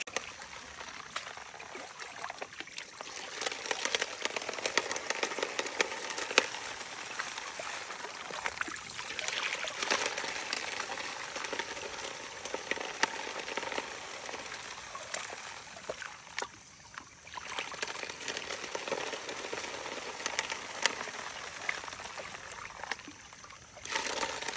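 Creek water rushes through a gold panning sluice in Pennsylvania, a continuous hissing wash with fluctuating splashy surges, fairly close and without any break across the long stretch.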